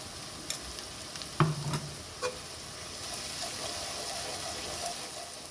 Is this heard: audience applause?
no